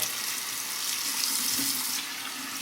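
Running water from a tap splashes steadily as an Edwin Jagger DE89LBL double-edge safety razor is rinsed mid-shave, a continuous close hiss with no talk.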